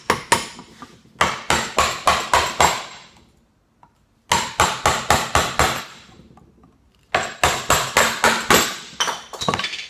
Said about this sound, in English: If you go with the grain, the wood will split easily for you.